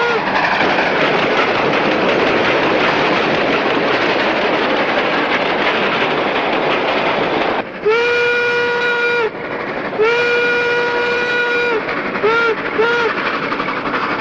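An 1876 passenger train with air brake rumbles along with a dense rolling clatter, then a loud steam whistle sounds in several long blasts followed by short toots.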